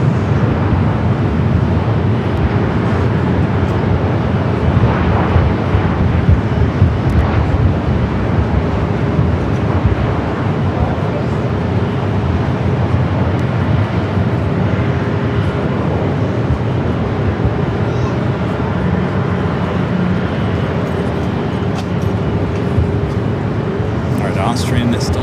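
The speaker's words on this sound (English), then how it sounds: "Japan Airlines to flight to Osaka, rolling down to 25 right." A Japan Airlines jet rolls down runway 25 right at LAX on takeoff for Osaka, a steady broadband engine roar that holds loud and constant throughout, with wind buffeting and a voice talking over it.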